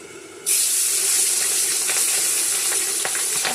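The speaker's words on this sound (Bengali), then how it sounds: "এই পাশে তেল গরম দিয়ে দিচ্ছি, এখন মাছটা ভেজে নেবো।" Fish is laid into hot oil in a pan, and a loud, sudden sizzle bursts in and holds as a steady, close, crackling hiss with small pops.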